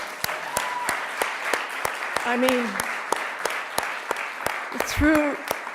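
Audience clapping at an LGBTQ community awards event, scattered and uneven rather than a full ovation, with a voice speaking over it.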